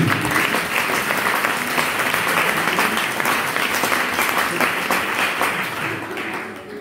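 A church seminar audience applauds loudly and continuously, dense clapping from many hands filling the room, fading slightly toward the end with a faint voice underneath.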